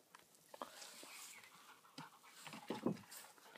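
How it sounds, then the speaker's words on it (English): Dogs making noise somewhere off at a distance outdoors, faint yelps and whines scattered through a quiet background, with a slightly louder burst near the end. "Those dogs are making a lot of noise over there."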